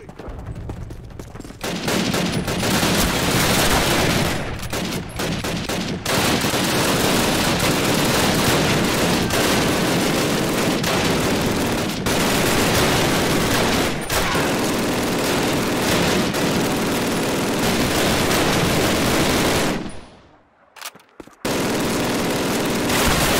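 Dense, sustained gunfire from the 2003 video game Call of Duty, rifle and machine-gun bursts overlapping almost continuously, with a brief drop near the end before the shooting resumes.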